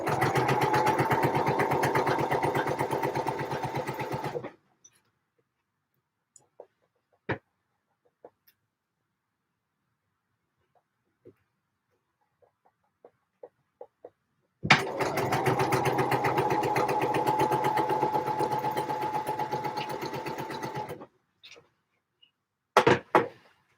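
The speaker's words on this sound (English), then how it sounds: "Try and keep all my fabric to the right" A sewing machine stitches fabric for a Vogue 8947 dress in two long, steady whirring runs of several seconds each, separated by a quiet stretch of small clicks and taps as the fabric is adjusted.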